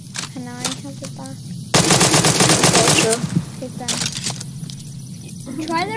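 A pistol fires rapidly in a video game, a dense loud burst of shots in the middle with scattered shots around it, set against background game sounds and a voice speaking.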